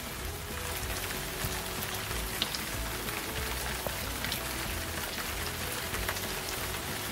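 Steady rain falls at night on a stony trail, a dense, even hiss of drops hitting rock with occasional louder splats, close by and continuous with no voices.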